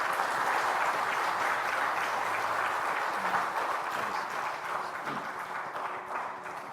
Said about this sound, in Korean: 우리가 힘찬 박수로 한번 격려하시죠.